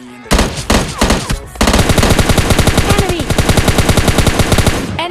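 Automatic gunfire from the PUBG Lite mobile battle royale game: loud, close bursts of rapid machine-gun shots, one brief burst, a pause, then a long sustained string of evenly spaced rounds.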